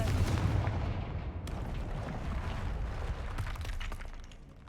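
In a video game, the Confringo spell sets off an explosion: a loud, dense blast of roaring crackle and shattering debris that fills the whole moment, then slowly tails off.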